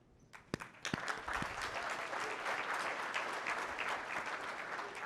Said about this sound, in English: I thought that would get more applause